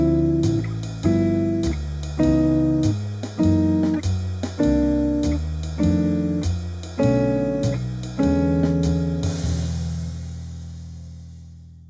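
Clean jazz guitar plays a cycle of ii-V chords, each pair stepping down by a half step. The chords are struck in a steady rhythm and close, and the last one rings out and fades.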